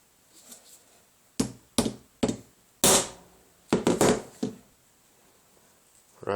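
Hammer blows strike a Guycarta test piece, a homemade fabric-and-resin composite, giving about seven sharp, loud impacts in an irregular rhythm, some with a ringing crack, separated by near silence.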